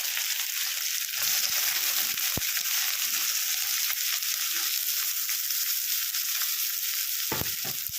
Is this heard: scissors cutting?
no